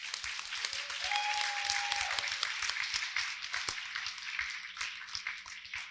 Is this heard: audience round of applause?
yes